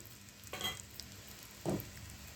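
Mustard seeds, cumin and dried red chillies fry in hot oil for a tempering, giving a faint sizzle with two brief bursts of stirring or crackling, quiet and close.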